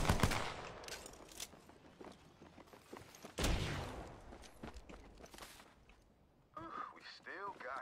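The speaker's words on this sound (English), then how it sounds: "Getting shot at." Gunfire in Apex Legends: bursts of rapid shots and sharp cracks scattered through the scene, with footsteps and whooshes mixed in, fairly loud against the game's ambience.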